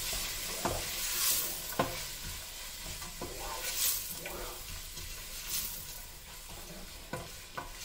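Rice with pigeon peas being stirred in a pot for Creole riz collé, with repeated close scraping and knocking strokes over a low simmering sizzle, loud then quieter.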